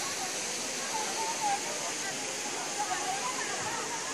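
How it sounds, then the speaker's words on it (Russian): Water from a fountain in a town square splashes steadily and continuously, a broad even wash of falling water, with faint voices in the background. "другой фонтан"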